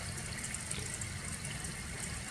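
Water runs steadily into a container as a continuous, even gush, close and unbroken, with no voices.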